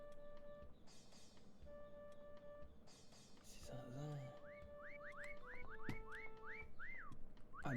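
Rising, repeated whistle calls from a player character in the hide-and-seek video game Meccha Chameleon, a run of short upward-sweeping chirps over steady game tones and background hum.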